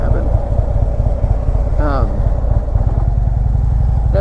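Motorcycle engine running steadily while riding through traffic and lane splitting, a constant loud drone throughout with a brief rising tone midway.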